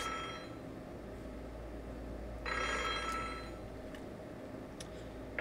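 Telephone ringing in the Japanese video game Otogirisou, with repeated bursts of bell-like rings sounding close and steady over a continuous low background hum, without any talking.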